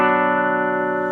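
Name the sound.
Epiphone Les Paul Gold top bridge pickup through Vox AC4TV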